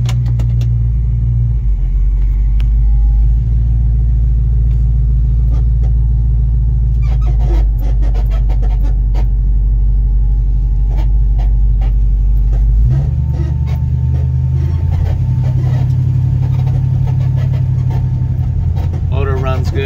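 1966 Ford Mustang convertible with a Holley fuel-injected engine idling, a loud, steady low rumble that rises in pitch briefly partway through, with someone talking over it.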